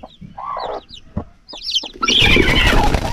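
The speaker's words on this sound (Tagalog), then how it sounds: "Malaking inahin." A big mother hen gives a run of close, distinct clucks, followed by a louder burst of flapping and scuffling with more fowl calls mixed in.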